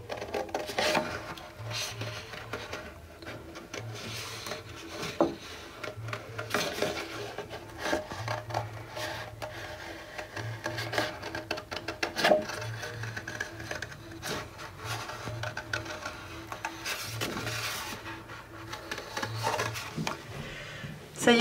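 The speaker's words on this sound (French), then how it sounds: "je vais découper un peu autour du trait noir" Scissors cut around the black outline of a small paper figure, making faint, close snipping and rustling sounds in a steady run of small crisp cuts.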